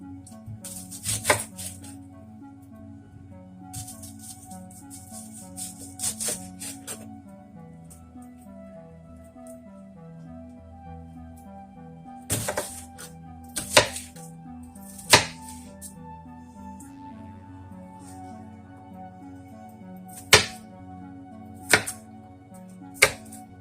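A knife chops onion into chunks on a cutting board, sharp thuds in scattered bursts and single strokes close by, with background music underneath and no talking.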